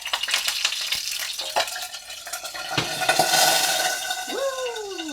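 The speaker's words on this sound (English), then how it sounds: "I've got a sausage cooking." A vegan sausage frying in a pan, with soft sizzling, clinks and scraping as it is turned, ending in a rising whistle-like tone near the close.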